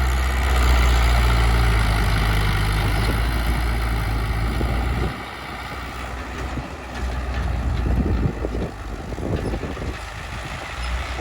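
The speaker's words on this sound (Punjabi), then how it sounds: "ਇਹ ਟਰੈਕਟਰਾਂ 'ਚ ਜਾਣ ਬਹੁਤ ਹੈ ਜੀ" An old tractor engine idles close by, a steady low rumble that holds loud through the first five seconds, then drops slightly and runs on with a rougher, uneven throb. No one speaks.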